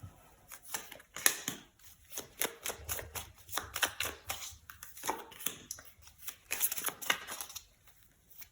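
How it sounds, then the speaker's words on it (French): Tarot cards being shuffled by hand, with a run of soft, rapid riffling and slapping bursts repeating throughout, close and fairly quiet, with no talk. "je vais juste remélanger encore un coup les cartes"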